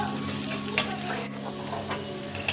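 Potatoes and onions frying in a pan and stirred with a metal spatula: constant close sizzle with quick scraping strokes through it.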